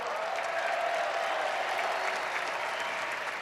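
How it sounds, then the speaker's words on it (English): Steady, sustained applause from a large crowd at a Chicago Bulls basketball arena during an honorary retirement ceremony, a dense roar of clapping that holds evenly throughout with no break. "give Johnny Red a round of applause"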